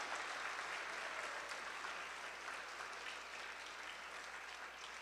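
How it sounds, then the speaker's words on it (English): Audience applause after a Sunday program class, steady even clapping from a gathered crowd, heard at moderate distance and without talk. "Please give a big round of applause for Rupanuga Prabhuji for the wonderful class."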